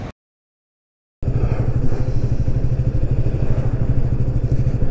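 A BSA Goldstar 650 motorcycle being ridden, its engine a steady, loud, low throbbing drone with rapid pulsing that runs unbroken after a brief silence at the start.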